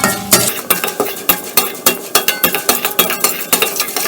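Urad dal, onion, garlic and fresh turmeric fry in a pan while a utensil scrapes and clinks against the metal in quick, regular strokes, with a light sizzle beneath.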